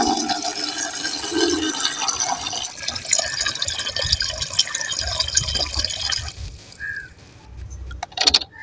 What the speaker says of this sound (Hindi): आगे पौधा में पानी दे देते हैं, क्योंकि धूप पूरा कड़ा धूप है और पौधा सूखने लगता है।